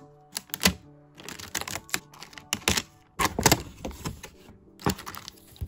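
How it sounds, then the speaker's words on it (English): Packing tape on a cardboard box being cut open, heard as a close series of sharp clicks, cracks and scraping bursts in irregular clusters, fairly loud against a low background hum. "I'm just gonna cut the tape right now"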